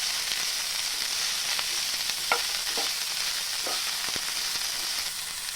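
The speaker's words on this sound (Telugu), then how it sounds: "మనం అలసంద కాయల్ని కట్ చేసి పెట్టుకున్నాం ముక్కలుగా, ఇందులో వేసి కలుపుకోవాలి" Long beans fry with garlic in a pan, giving a steady close sizzle with a few soft scrapes and clinks as they are stirred.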